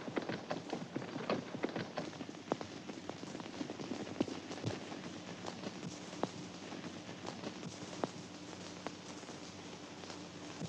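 Horse hooves clop in an old 1930s western film soundtrack, a quick irregular run of hoofbeats over a hissy, worn background, moderately distant and faint.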